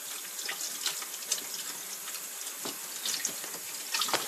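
Hot tap water running steadily into a kitchen sink while making dough, a continuous hissing splash with small shifts as the stream is moved, heard close with no talking.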